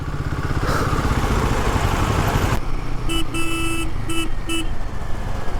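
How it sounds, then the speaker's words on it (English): A Royal Enfield Himalayan 450 motorcycle horn gives several short, thin beeps in stop-and-go traffic, the first held longer and the rest quick, following a stretch of loud engine and road rumble. "This is not a horn you put on a 450cc touring motorcycle."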